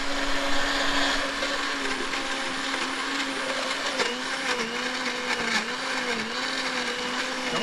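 A small, low-powered blender purees hedge apples with water into a spider spray, its motor whining steadily and close throughout, with the pitch dipping and wavering as the load shifts.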